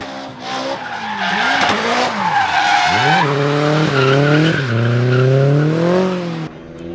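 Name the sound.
car engine and tires skidding on track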